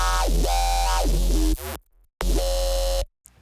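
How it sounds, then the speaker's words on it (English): A Serum 2 synth preset run through snap heap effects with OTT, giving a loud, sweeping, gritty tone with pitch dips and slight feedback, cut by two short silences before resuming briefly. "And then with the snap heap effects, it sounds like this."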